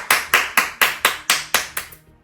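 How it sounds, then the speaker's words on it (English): About eight sharp, evenly spaced hand claps ring out close and loud at a brisk steady pace, then stop abruptly and leave a short quiet tail. "Clap it up!"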